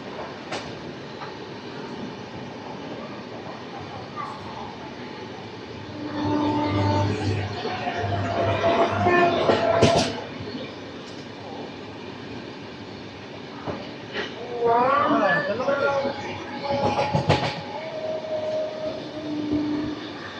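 A train runs through Charlapalli railway station without stopping: steady rolling rumble throughout, swelling louder mid-way, with sustained whistle or horn-like tones and rattling bursts, no talk.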